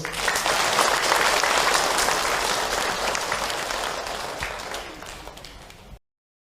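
An audience at an Islamic religious talk breaks into sustained applause, a dense wash of many clapping hands that stays loud and then tapers off before cutting to silence.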